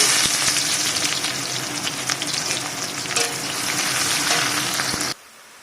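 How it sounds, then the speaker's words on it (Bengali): Onions frying in hot mustard oil give a loud, steady, close sizzle with crackling spits, cutting off abruptly near the end. "সরষে তেল দিয়ে দিয়েছি পেঁয়াজ পেঁয়াজ দিয়ে দেবো তেল গরম হয়ে গেছে"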